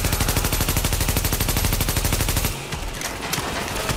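Fast, evenly spaced automatic gunfire from the video game The Division, loud and sustained for a couple of seconds before cutting off into quieter ambient noise.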